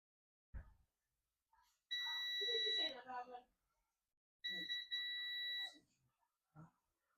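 A multimeter beeps twice in long steady tones, each about a second, while testing a shorted capacitor on a Dell Latitude E5250 logic board; soft clicks and a few quiet words from a nearby voice sit around the beeps.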